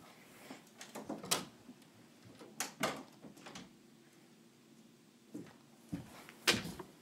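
Doors opening and closing in the video game Five Nights at FatBears, several sharp mechanical clunks and slides spaced irregularly with low hum between them, no voices.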